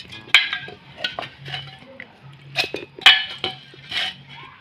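Rice being put into a mixer grinder jar in a kitchen, heard as scattered clinks and knocks of utensils against the jar, close and intermittent.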